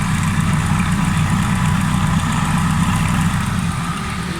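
A Suzuki Alto 1000cc car engine idling, a loud, close, steady low rumble with even vibration throughout and no change in pace.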